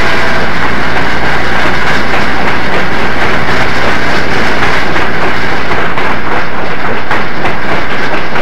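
Southern Pacific-style cab forward steam locomotive 4274 hauling its train on rails through the foothills toward Auburn, heard as a loud, steady rolling roar with continuous clickety-clack of wagons passing close by, no talk.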